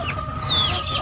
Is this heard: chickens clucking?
yes